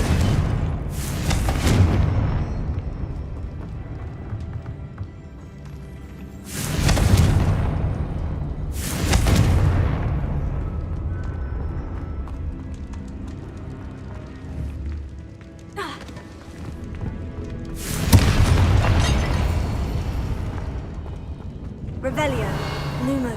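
Confringo fire spell explosions in Hogwarts Legacy, several loud booming blasts spaced a few seconds apart over game sound, with a spoken spell incantation in between.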